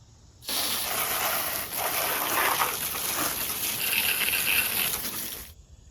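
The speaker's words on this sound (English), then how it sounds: "Then hit it with some water." A Craftsman 21-inch push mower with a Briggs & Stratton engine gets rinsed with water after degreasing, a loud continuous close spray and gush that starts abruptly, runs for about five seconds, then stops.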